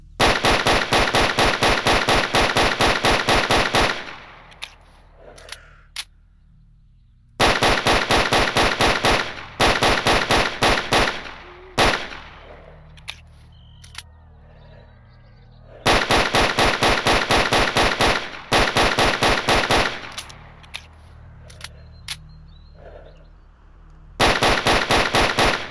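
A 9mm handgun in S.T.A.L.K.E.R. Anomaly firing semi-automatic in loud, rapid bursts of evenly spaced shots, with short quiet gaps and faint clicks between volleys.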